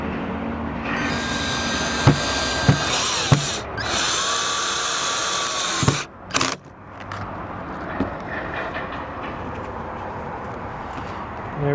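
A power drill fitted with a bit whirs in short bursts while RV clearance light fixtures are installed with stainless steel hardware, with one longer high-speed run and clicks and handling noise between the bursts.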